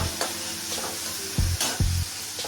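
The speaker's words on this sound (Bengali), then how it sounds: "আদা রসুন পেঁয়াজ ভাজা হয়ে গেছে" Ginger, garlic and onion frying in oil in a kadai, with a steady sizzle and a few scraping stirs of a spatula against the pan.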